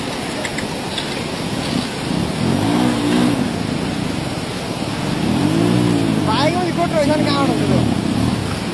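A government motorcycle with a white number plate revs up and down several times in rising and falling swells, loud and close, with people talking over it.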